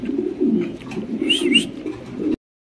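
Danish and Potter breed pigeons coo in low, throaty bursts, close and fairly loud, with a brief higher chirp partway through before the sound cuts off.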